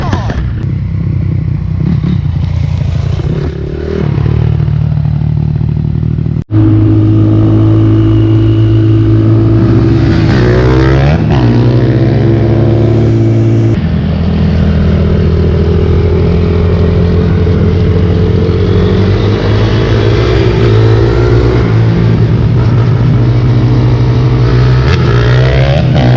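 A 2006 Honda CRF250R dirt bike engine revs hard as the rider approaches and passes, loud and close, with rising and falling pitch through gear changes and a steady blaring drone from start to finish.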